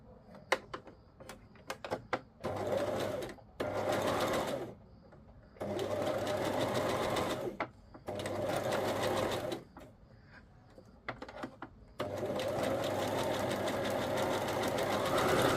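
A sewing machine runs in bursts of rapid stitching, stopping and starting several times, with brief clicks and handling noises between runs.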